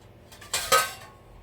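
A serving of soft millet mudde (ragi ball) made with fenugreek is set onto a plate, giving a couple of close, brief clinks of utensil against the plate amid a quiet kitchen, with no talking.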